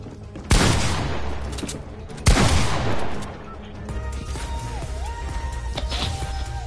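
Gunfire in a shooter video game: two sharp, loud shots about two seconds apart, each with a rolling echo, followed by quieter game ambience.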